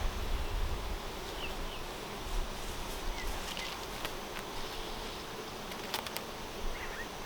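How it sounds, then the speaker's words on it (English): A dense, steady buzz of many honey bees on hive frames during a hive inspection, close by, continuous throughout with a few brief higher tones rising above the hum. "Lots of bees on these frames"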